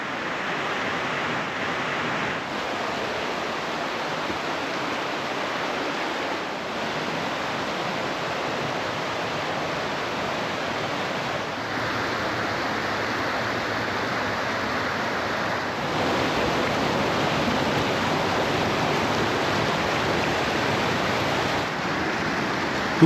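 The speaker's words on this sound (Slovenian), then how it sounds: "Martuljkova soteska je divja in slikovita soteska, skozi katero teče potok Martuljek" The Martuljek mountain stream rushes through a wild gorge in the Julian Alps, a steady, loud, unbroken roar of flowing water with no voices.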